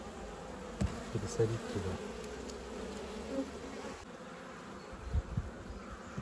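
Honey bees buzz steadily over hive frames during the unpacking of a swarm being merged with a mite-weakened colony, a dense insect hum with a few louder bursts as frames shift; a voice speaks briefly.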